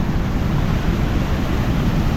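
Steady rushing water of the Vedavathi river near Vani Vilasa Sagar dam, Hiriyur, flows continuously, a dense even roar with no pauses or voices.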